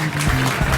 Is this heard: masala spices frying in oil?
no